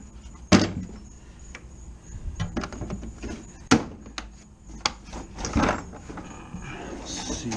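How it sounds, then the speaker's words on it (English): Bottom drawer of a mechanic's tool box holding Snap-on hammers, sliding open with a sharp metallic clack and a rattle, followed by several lighter knocks and shuffling of tools close by in a quiet garage. "That's the bottom drawer."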